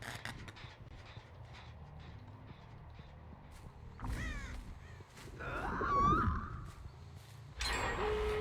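Crows caw in the Dead by Daylight video game, a few harsh calls mixed with wing flutters and game sound effects, moderately loud over a constant ambient background.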